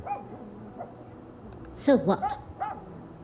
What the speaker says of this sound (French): C'est ton chien qui jappe.